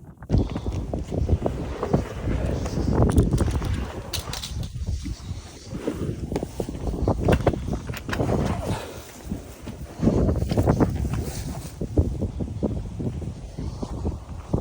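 A kayak scraping and dragging up a lake island shore in the Lake District, a steady rough rubbing with bumps and crunches, close by, over constant outdoor wind buffeting.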